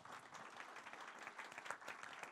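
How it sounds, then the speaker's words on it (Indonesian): Congregation clapping at a church worship service, a steady, dense wash of many hands applauding together at moderate distance, continuous throughout with no speech over it. "Berikan tepuk tangan buat Tuhan."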